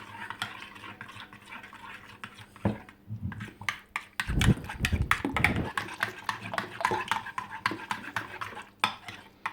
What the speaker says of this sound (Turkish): domates salçasıyla beraber yoğurdumuzu karıştırıyoruz.